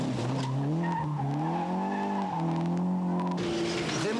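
An Opel Manta rally car in division 2 at a 1998 rally stage start at Estine, its engine revving hard and loud with rising and falling pitch as it pulls away, slight tyre squeal in places.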